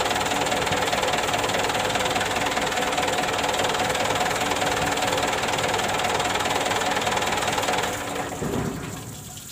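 A car engine idles with a steady, rough hum and light knocking during a radiator flush, then dies down near the end as it is switched off, close and fairly loud with no speech.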